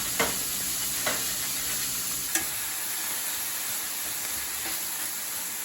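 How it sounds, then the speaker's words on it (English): Peppers and onions sauté together in a pan with a steady, close hiss of sizzling, broken by a few sharp clicks from stirring. "We're going to saute our peppers and onions together for about 6 to 7 minutes"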